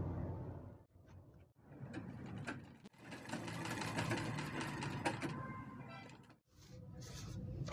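A sewing machine runs a zigzag stitch in long, close, rattling runs, pausing briefly several times before starting up again.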